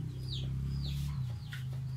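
Chickens clucking on a Filipino farm during banana harvesting, several short calls rising over a steady low engine-like hum, close and fairly loud with no talk.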